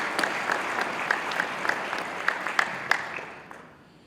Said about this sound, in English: I think you all give yourself a round of applause for that.